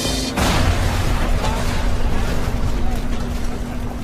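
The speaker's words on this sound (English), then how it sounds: "Rescue workers comb through the wreckage when an explosion rips through the remains of the plane." An explosion rips through the wreckage of the crashed Korean Air Flight 801 Boeing 747: a sudden loud boom that swells into a sustained, roaring rumble filling the whole clip.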